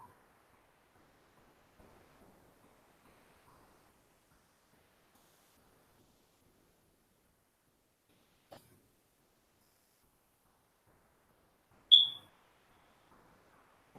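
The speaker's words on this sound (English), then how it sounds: "Change them smoke detector batteries." A single high, sharp low-battery chirp from a smoke detector rings out alone in a quiet room, preceded by a few faint clicks and low rustles.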